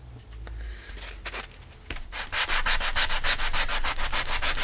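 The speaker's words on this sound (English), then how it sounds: "And we're just going to sand away." Rhythmic scratchy rasping of a sanding block rubbed back and forth over paper, starting with a few scattered strokes then settling into fast, steady strokes.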